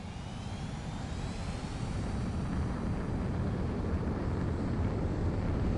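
A jet fighter takes off in the video game Ace Combat 7, a loud, continuous engine roar that swells slightly and holds steady, with a faint rising whine above it and no voices.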